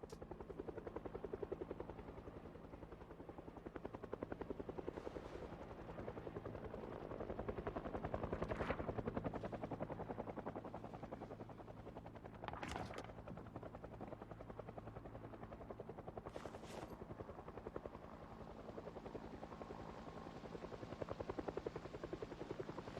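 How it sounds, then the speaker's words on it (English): A helicopter flies overhead in Project Zomboid near Louisville, its rotor drone steady and continuous for over twenty seconds, with a few sharp cracks cutting through partway. "I think the helicopter might actually hover over Louisville more than it might any other area of the map"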